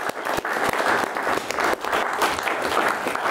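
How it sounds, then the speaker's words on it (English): Wedding guests applauding at a reception during the speeches, a dense, steady burst of clapping from a room full of people, close and loud. "here's a clap"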